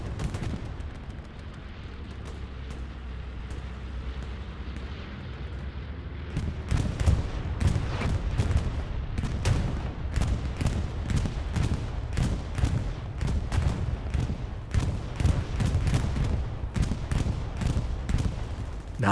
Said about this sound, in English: Bombing run on its way here.